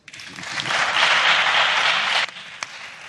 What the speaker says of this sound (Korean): 거침없이 일침을 날리는 그에게 큰 박수가 이어집니다.